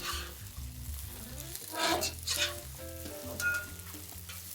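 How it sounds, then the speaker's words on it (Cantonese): Cantonese rice noodle rolls pan-frying on both sides in a hot wok before being stir-fried with XO sauce and soy sauce. A close crackling sizzle swells in bursts beneath steady background music. "我哋要將佢底面兩邊輕輕煎佢"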